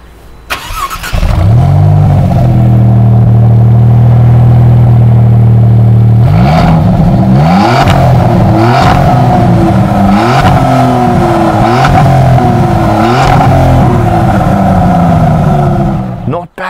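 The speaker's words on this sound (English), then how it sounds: "in order to see just how loud our MC20 with its 3-liter twin turbocharged V6 engine is, with the stock exhaust except for the NOVITEC race mufflers" A Maserati MC20 with a 3-liter twin-turbo V6, stock exhaust and Novitec race mufflers, starts up loud and close, idles briefly, then revs sharply in repeated bursts.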